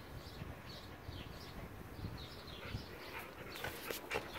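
A dog whines in a series of thin, high, wavering whimpers, close by, with some faint rustling underneath.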